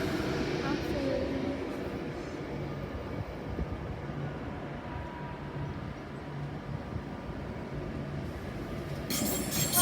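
A train arrives at London Euston station with a steady rumble of rolling railcars and wheel noise that lasts the whole time, and a brief higher clatter comes at the end.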